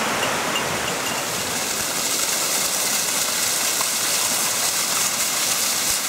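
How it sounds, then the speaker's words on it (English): A small waterfall beside an overgrown, abandoned farm road in rural Japan gives a steady, dense rushing roar that stays loud and unbroken throughout, with no voices. "Beautiful little waterfall."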